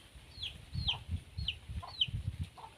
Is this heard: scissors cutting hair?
no